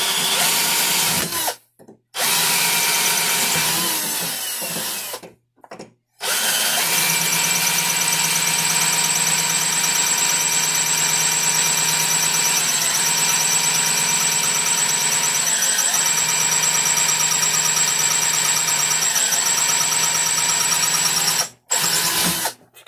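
A cordless screwdriver spins a screw hard against plastic in a friction-welding attempt, making a loud, continuous high-pitched whine and squeal with a grinding edge, broken by a few short pauses near the start and end.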